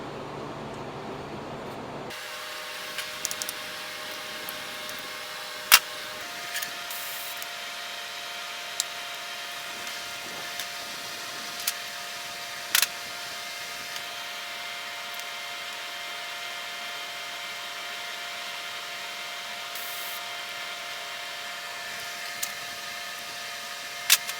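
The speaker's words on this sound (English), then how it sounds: "Super fun welding really thin stuff, but that's what we got." Very thin metal being welded for an Evo Sportster chopper seat pan mount, a long, even hiss and buzz lasting around twenty seconds after a short quiet start, dotted with small sharp pops.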